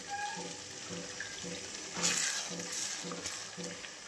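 Ingredients for moong dal amti sauté in a pan in a home kitchen: a steady sizzle with rhythmic stirring scrapes roughly every half second, close and moderately loud, with no talking.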